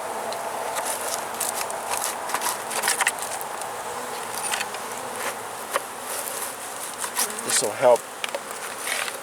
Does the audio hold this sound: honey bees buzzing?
yes